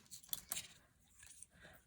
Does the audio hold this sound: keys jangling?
yes